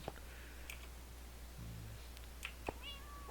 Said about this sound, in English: And then I have all my dogs and cats in here that I've gotten.